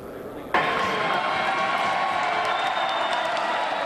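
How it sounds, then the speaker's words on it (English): Hundreds of high school students burst into sudden loud applause and cheering at a Rock the Caucus political rally, a dense sustained roar of clapping and crowd noise. "Ron Paul got rock star applause from hundreds of high school students at the Rock the Caucus event"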